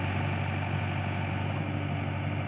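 Swaraj 744 tractor engine idling steadily near a dirt-loading site, a continuous low rumbling drone that holds even and loud throughout with no talk over it.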